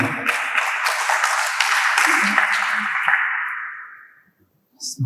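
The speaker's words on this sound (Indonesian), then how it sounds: "Tepuk tangan dong." An audience at an SBC class event in Lumajang claps for several seconds, a dense, echoing round of applause that fades out, followed by a brief voice.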